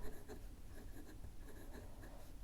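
A Monoc medium fountain pen nib writing on paper, giving a close, soft scratchy rhythm of short strokes throughout.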